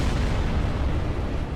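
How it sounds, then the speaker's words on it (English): A loud, close explosion in Dark Souls rumbles as a dense, deep roar that fills the whole moment without letup and with no voices. "Wait for that explosion to die down."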